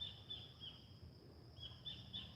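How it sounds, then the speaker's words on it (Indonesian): Birds in an Indonesian teak forest give faint, high chirps in small clusters, distant and soft over a low, quiet background hum. "Tuh, dapat terdengar suara burung ya."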